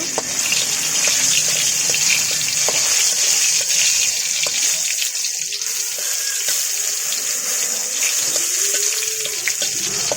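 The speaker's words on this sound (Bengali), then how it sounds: "কাঁচামরিচটা আর একটু ভেজে নেব।" Green chilies frying in hot oil in a home kitchen, giving a steady, even sizzle and hiss that runs throughout with no talking.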